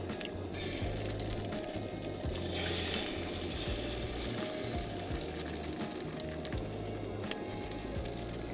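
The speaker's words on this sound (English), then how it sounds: "We're trying to fry the egg, but keep the yolk intact" An egg frying in a convex pan, a soft continuous sizzle and crackle with faint scraping, steady and close without speech.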